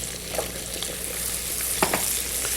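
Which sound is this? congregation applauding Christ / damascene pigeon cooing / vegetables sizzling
vegetables sizzling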